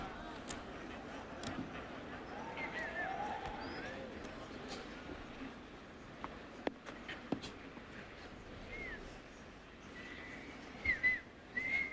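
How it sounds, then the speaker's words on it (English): At a men's tennis match in Paris in 2003, a crowd lets out scattered whistles, mostly faint and distant, with a few sharper bursts near the end amid murmuring arena noise and low commentary speech. "A few whistles for Leighton Hewitt after another outburst."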